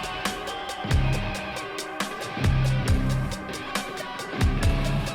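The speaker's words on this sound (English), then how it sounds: "And this is the sound of Mithrix's second phase." Music from Mithrix's second-phase fight in the video game Risk of Rain 2: a dense, steady wash of sound punctuated by repeated booming, descending bass hits and sharp percussive accents in a regular pulse, with no talk over it.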